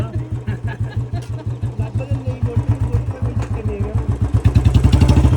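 A Royal Enfield Bullet motorcycle idles nearby with a steady, loud thumping beat that swells slightly toward the end, while people talk in the background.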